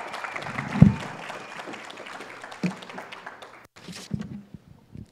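An audience at a debate event applauds the debaters, a steady wash of clapping that peaks early, holds for several seconds, then thins out into scattered claps near the end.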